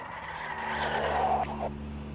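A heavy Mercedes DTM race car in the AMS2 racing game sliding through a corner, with a squealing tire skid that rises and cuts off over a steady engine hum.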